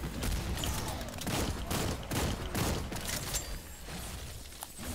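Dense rifle gunfire from a Gunslinger in the Lost Ark guardian raid against Hanumatan, rapid overlapping shots with booming impacts and game effects, loud and sustained throughout.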